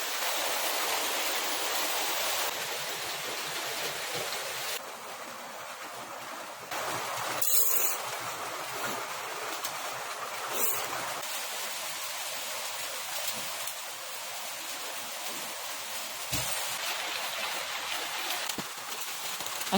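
Steady heavy rain hissing without letup, a dense broadband wash of drops with gusty swells, nearby and loud, no voices.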